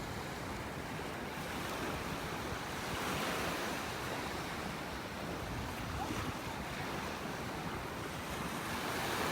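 Ocean waves wash through a beach pass at low tide in a state park in North Naples, Florida. A continuous broad roar of surf mixes with wind buffeting the microphone, and no one talks.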